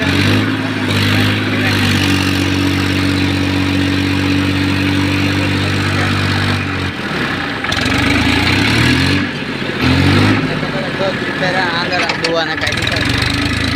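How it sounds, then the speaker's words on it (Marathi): A tractor engine runs steadily and loudly throughout, its low rumble shifting in pitch, with people talking over it at times. "ट्रॅक्टर एकदम चालू"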